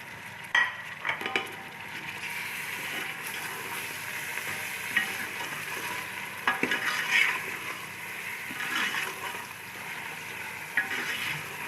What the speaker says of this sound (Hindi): ये तो प्याज हमारा तकरीबन फ्राई हो चुका है। अब हम इसमें ऐड करेंगे गोश्त।